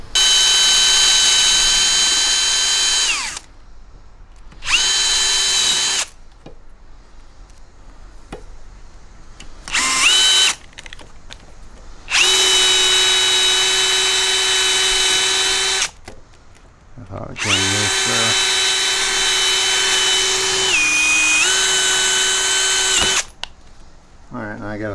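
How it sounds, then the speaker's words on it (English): A power drill with a 1/8 inch bit drills out aluminum rivets while a Jeep Wrangler TJ hard top comes off, loud high-pitched whining bursts repeating with short pauses between them. "These are aluminum rivets. 1/8 inch drill bit."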